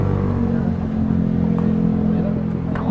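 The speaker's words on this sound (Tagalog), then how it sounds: "Dito yung kargadong kargadong Raider FI." A loaded, modified Raider FI motorcycle engine runs steadily and loud nearby, with a constant rough drone and faint clattering throughout.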